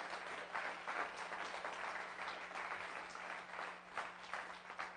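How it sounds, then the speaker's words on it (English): Church congregation applauds to welcome new members during a worship service, a sustained, even round of clapping at moderate distance over a low electrical hum. "we give a round of applause welcoming Leroy and Sandy"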